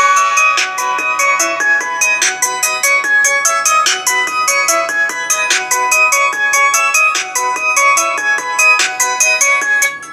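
Built-in ringtone playing on a Sharp AQUOS S3 smartphone, a bright, loud, repeating electronic melody of quick plucked notes that runs continuously for about ten seconds with no voices.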